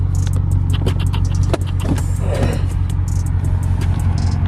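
Stage 2 tuned BMW 650i rated at 640 horsepower, a loud steady engine drone heard from inside the car while driving, with small rattles and clicks over the constant rumble.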